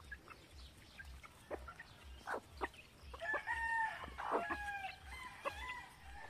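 Chickens cluck and a rooster crows nearby, with scattered clucks and calls over a soft, steady low hum in the background.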